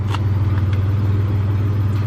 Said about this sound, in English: Dude, this is the skinniest burnout in the history of the world.